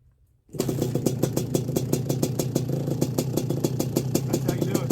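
A rebuilt vintage 1981 Suzuki RM125X two-stroke motorcycle engine catches after a brief silence and runs close and loud with a fast, even, crackling beat.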